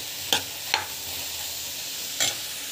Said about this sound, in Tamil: ஸோ நல்லா வந்து வதக்கிட்டுக்கோங்க. இந்த அளவுக்கு நல்லா வதக்கணும்.